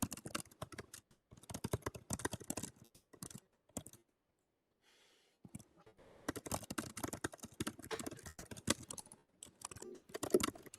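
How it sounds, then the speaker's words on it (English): Rapid keystrokes clatter on a computer keyboard in close bursts, pausing briefly near the middle before resuming in dense, uneven runs, with no voices. "Steven, we can hear your typing, so you might want to mute yourself for a mi"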